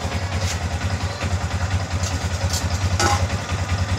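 A motorcycle engine idles steadily during an oil change, with a low, even, fast-pulsing chug and light mechanical clatter, close up and with no talking.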